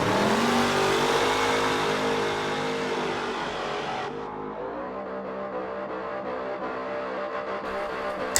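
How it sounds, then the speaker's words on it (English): Race car drifting hard through a corner at Yas Marina, its back end sliding: a loud, sustained engine roar with tyre noise, steady throughout with a drop in tone midway. "really sliding that back end, and it's still going, and still going"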